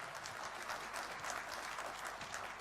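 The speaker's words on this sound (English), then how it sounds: "can we give a huge round of applause to Mr." An audience at the TAFI Convention 2015 gives a round of applause for a guest on stage, a thick, steady roar of many hands clapping that holds at an even level throughout.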